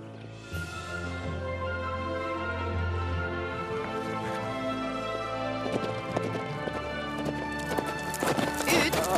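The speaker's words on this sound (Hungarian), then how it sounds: "Ah, szép ló!" A horse's hooves clip-clop steadily and close by with a neigh, set against a constant hum of other sound.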